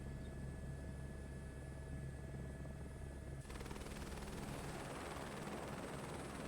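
Helicopter in a video game flying slowly, a steady loud rotor and engine drone that carries on throughout and turns broader and noisier partway through, with no talk.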